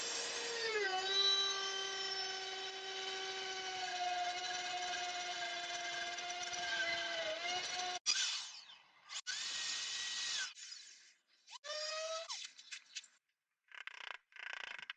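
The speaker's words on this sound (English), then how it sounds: "cut a milled groove for the slat" A high-pitched power tool whines steadily as it mills a groove in strapped-together wooden bench slats, then stops and restarts in several shorter bursts with brief pauses between them.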